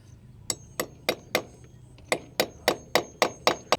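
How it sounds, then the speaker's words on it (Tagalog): A hammer pounding on construction work, struck in a steady series of about eleven sharp, loud blows with brief gaps, several rapid pairs, close by with no talking. "Tapos nagpapaluin ng martilyo o pupupukin."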